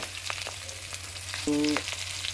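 Onions tossed into a hot pan for a pork curry crackle and sizzle steadily up close, with a few scraping stirs and a short tonal beep midway.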